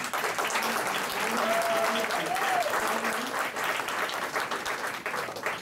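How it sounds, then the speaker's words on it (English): Town hall audience in Esopus claps and cheers for the event organizers, a full sustained burst of applause with a few raised voices mixed in, holding steady before tapering slightly. "if we can have a big cheer again for the organizers of this event"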